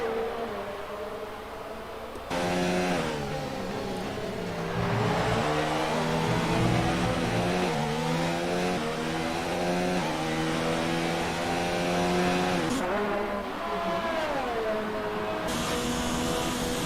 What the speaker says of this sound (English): Siknig, incredible late braking through two corners there.